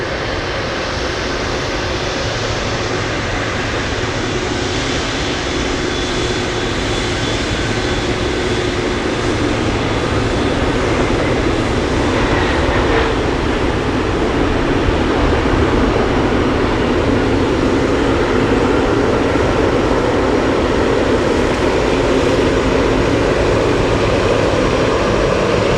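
Cargo airplane at Anchorage airport on a windy day, a loud, continuous engine roar with a broad rushing hiss that builds slightly toward the end.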